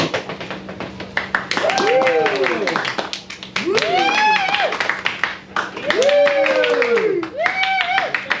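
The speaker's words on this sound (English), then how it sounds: "If you think he's doing the best job, give us a round of applause." An audience at an improv comedy show claps steadily for about eight seconds while voices whoop and shout over it in rising, wavering calls, loud and close.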